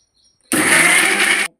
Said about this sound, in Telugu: నేను వేసేటప్పుడు ఇట్లా అన్నీ కలిపి మిక్సీ పట్టుకోవాలండి.